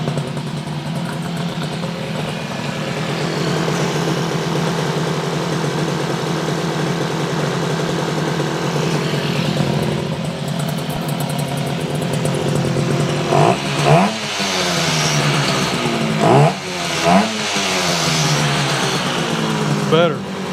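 A 1968 Yamaha YAS1C 125 twin motorcycle engine runs steadily at a loud, close idle with a buzzy two-stroke drone, then revs up and drops back in several quick blips near the end.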